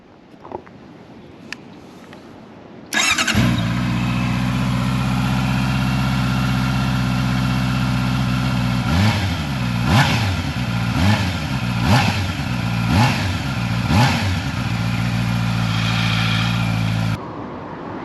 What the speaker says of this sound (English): Let's hear the sound of the stock exhaust then.